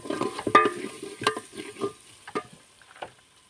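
Vegetables frying in a pan in a village kitchen, soft sizzling broken by irregular clinks and scrapes of a stirring utensil, close and moderately loud, no talking.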